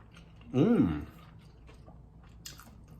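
A thick fried chicken sandwich is bitten and chewed, with a short, close, wet squishy chomp followed by quieter faint mouth sounds, and a voice speaks briefly around it.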